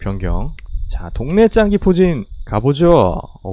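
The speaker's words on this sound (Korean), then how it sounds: "매미 우는 소리가 장난 아니네" Cicadas keep up a steady high, buzzing drone from start to finish, running under a man's continuous close speech.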